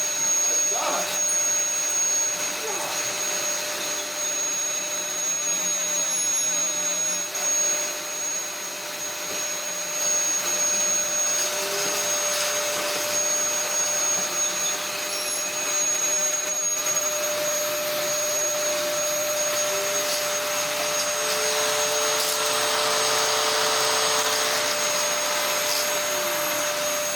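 A Dyson DC21 Motorhead vacuum cleaner runs with its brush roll turning, giving a loud, steady, high motor whine with a continuous airy roar that holds unbroken throughout.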